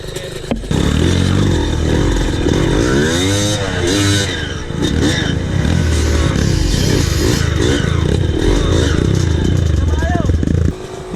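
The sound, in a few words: Yamaha DT 135 motorcycle riding on a trail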